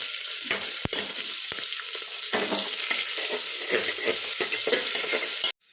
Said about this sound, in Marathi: टाकूया हिंग, त्याच्यानंतर टाकूया लसूण, अद्रक आणि मिरची.